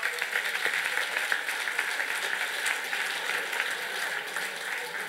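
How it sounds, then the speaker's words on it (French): Dense, steady applause from an audience at a 2022 cultural gala during a prizes and thanks segment, filling the room evenly for several seconds with no talk over it. "Vous pouvez vous applaudir."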